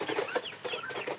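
A native country hen clucks close by in a short run of quick, soft calls, with no talking.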